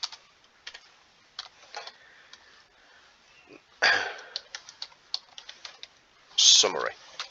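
Computer keyboard typing in scattered clicks and short bursts, close and soft, with a couple of louder knocks, one near the end overlapping a brief vocal sound.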